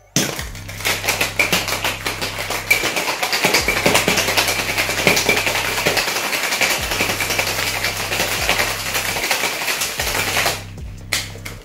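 Ice rattling hard inside a cocktail shaker as a gin Livingstone cocktail is given a half shake, a rapid, dense rhythmic clatter running nearly the whole time before stopping near the end.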